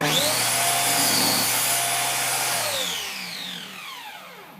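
A circular saw with a new blade whines loudly and steadily through wood, its high pitch holding and then winding down as the blade slows.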